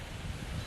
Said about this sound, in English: Hold up, it's windy.